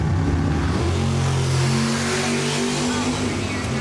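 A blue Camaro and a Vega bracket drag racing at an old school strip, their engines droning loud and steady with sustained revving throughout, as an announcer talks over the roar.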